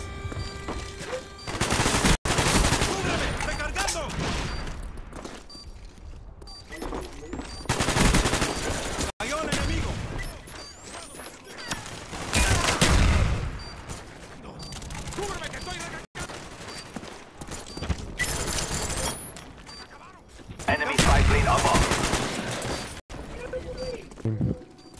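Call of Duty Black Ops gunfire during a bomb-defusal match: repeated bursts of automatic fire and single shots over about 25 seconds, loud and continuous, with players talking over much of it.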